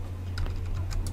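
Fingers tap out a few quick keystrokes on a computer keyboard, close and crisp, over a steady low electrical hum with no talking.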